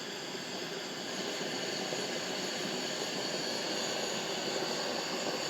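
A Jetboil Genesis camping stove burner runs at full output, a steady, loud broadband roar like rushing jet exhaust that holds constant throughout without pauses.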